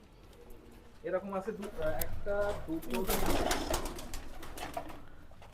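Pigeons coo and burble nearby in a steady, overlapping chorus inside a large pigeon loft, with faint background noise and a few sharp flutters or clicks.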